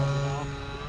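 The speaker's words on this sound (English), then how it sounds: "This is the first flight of this aircraft" A scratch-built model airplane, built from plans, flies on its maiden flight, giving a steady, fairly loud propeller drone with a constant engine tone throughout.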